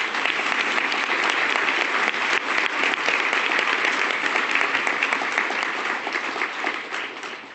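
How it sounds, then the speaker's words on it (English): A large audience at a Toronto Foundation Vital Signs event applauds Rahul's presentation with dense, steady clapping that stays loud for the whole stretch and then starts to thin toward the end. "I just want to take a moment to give Rahul another round of applause for a great"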